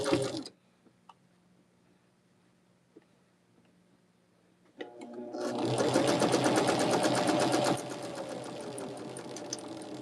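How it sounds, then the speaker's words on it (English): Sewing machine chain stitching quilt block units together with a 1/4 inch seam, a steady loud run of needle strokes beginning midway after near silence and continuing to the end. "I'm going to do a 1/4 inch seam, and I am going to chain stitch them"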